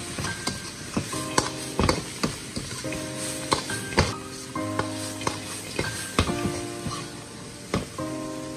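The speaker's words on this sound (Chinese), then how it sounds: "开大火快速的翻炒，将它们翻炒均匀" Small fried crucian carp and garlic sprouts stir-fried over high heat in a wok, with a steady sizzle under repeated close spatula clanks and scrapes, no talking.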